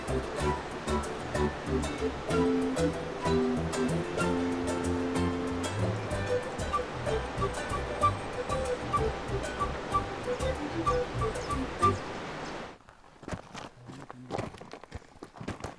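Broadband rushing water from a Peruvian river as porters make a crossing, a steady loud wash that fills the first twelve seconds before abruptly dropping away to near quiet.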